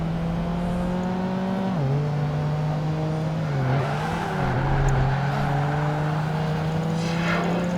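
A rival Mazda RX-7 race car in Project Gotham Racing 2 holds a steady droning engine note close by, with dips in pitch around corners and a faint whir beneath.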